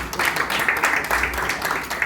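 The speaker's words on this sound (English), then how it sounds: "Give him a round of applause." An audience at an education teacher summit awards reception applauds with a steady, moderate patter of clapping that lasts throughout, heard from within the room.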